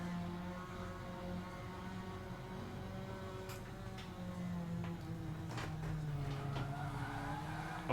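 Race car engine droning steadily in a racing video game, with tyre skids and brief sharp scrapes toward the end, continuous and fairly loud throughout.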